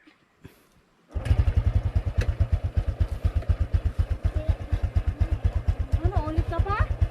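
A motorcycle parked at a beach campsite in Tunggo Beach starts after a brief crank and settles into a loud, close, rhythmic idle with a steady rapid thump; voices talk briefly near the end.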